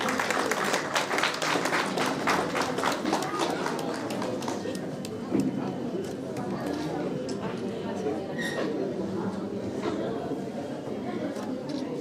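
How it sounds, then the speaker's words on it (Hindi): An audience at a Hindi-Urdu poetry gathering applauds in a dense burst of clapping that gradually thins and softens, with murmured chatter beneath. "जोरदार तालियां बजनी चाहिए।"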